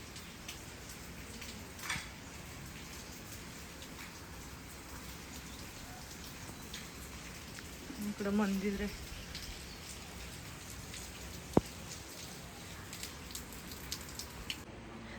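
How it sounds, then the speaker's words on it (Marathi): Heavy monsoon rain pours steadily in an outdoor setting, a constant hiss throughout, with a few brief knocks and a voice speaking quietly partway through. "तर खूप जास्त पाऊस चालू आहे. पहाटे 2:45 पासून पाऊस चालू आहे."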